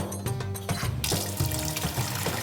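Water runs steadily from a tap into a sink in a modern kitchen, a constant splashing rush with a low hum beneath and no voices.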